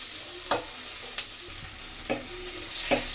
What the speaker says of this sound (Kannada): ಇದು ನೀಟಾಗಿ ಫ್ರೈ ಮಾಡಿಕೊಂಡು ಚೆನ್ನಾಗಿ ಫ್ರೈ ಆಗ್ತಾ ಇದೆ.